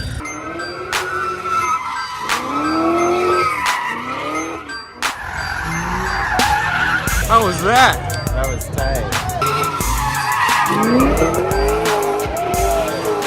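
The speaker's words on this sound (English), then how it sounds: "All we can hear is like squeals from fucking tires on cars." Car tires squeal and skid repeatedly at a street sideshow in Los Angeles, with engines revving between long screeching slides, nearby and loud, while people talk over the noise.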